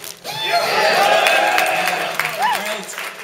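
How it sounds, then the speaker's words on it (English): A convention audience at a musicians' panel applauds. Steady, loud clapping and crowd noise carry through a few seconds, with a shout or whistle rising above it near the end. "Alright, another round of applause for them for being here."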